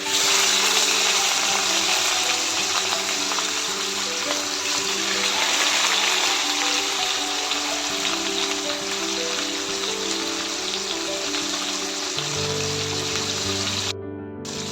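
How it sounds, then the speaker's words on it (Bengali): Chitol fish fries in hot oil, a loud, steady bubbling sizzle close by that continues unbroken and then drops off abruptly at the end. "তেল গরম হয়ে গেছে, মাছ দিয়ে দিব।"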